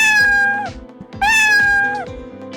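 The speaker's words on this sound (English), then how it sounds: "It's a meow." Scratch cat meow sound effect, two clear close cat meows in quick succession, each rising then falling, alone without talk.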